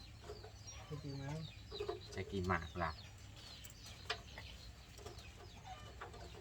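Chickens cluck close by in short bursts and scattered calls, audible beneath people talking nearby.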